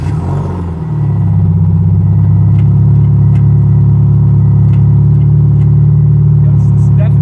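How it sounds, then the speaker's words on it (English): A Scion FR-S / Subaru BRZ / Toyota GT86 sports car pulls away, its engine settling into a steady, close mid-pitched drone after a brief shift in the first second. "So first time driving an FRS BRZ GT86."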